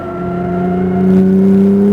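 Acura NSX engine on a race track holding a steady, loud tone that climbs slightly in pitch as it revs up, strong and continuous throughout.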